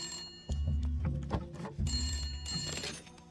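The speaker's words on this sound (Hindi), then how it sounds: "विधायक जी का फोन है।" A telephone rings with two bursts of trilling electronic ringing separated by a short gap, for the MLA calling in; clear and fairly close, with no one speaking.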